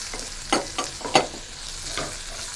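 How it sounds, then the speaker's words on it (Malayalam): Shallots and green chili hit hot oil in a pan and sizzle softly. A few quick scraping stirs stand out close by, with no voices. "നമ്മുടെ ചുവന്നുള്ളി നമുക്ക് അതിനകത്തേക്ക് ഇട്ട് കൊടുക്കാം. അതിൻ്റെ കൂടെ തന്നെ ഞാൻ ഒരു പച്ചമുളക് എടുത്ത് വെച്ചിരിക്കുന്നതും കൂടെ ഒന്ന് ഇട്ട് കൊടുക്കുവാണേ."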